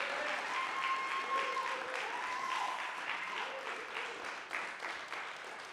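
A concert audience claps for the singer in sustained, dense applause that holds steady for several seconds and then begins to thin slightly toward the end.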